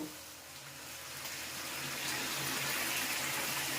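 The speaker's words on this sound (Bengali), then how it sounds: "এই ফুটন্ত গরম জল আমি চিকেনের মধ্যে দিয়ে দেব" Boiling hot water pouring from a vessel onto chicken in a pot, a steady rushing gush that grows fuller and louder over a few seconds, heard alone.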